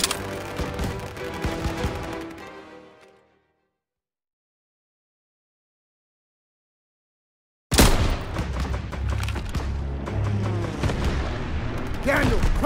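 Dense gunfire and blasts from a World War II street battle in Call of Duty WWII, loud and continuous, broken by a few seconds of silence before the barrage resumes just as heavily.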